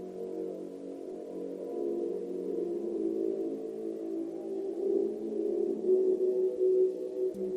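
A low, droning FNAF game sound cue signals Freddy arriving in the sanitation room, a muffled, hollow hum that swells slightly and holds steady for several seconds with no other sounds.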